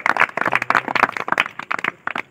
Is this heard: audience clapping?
yes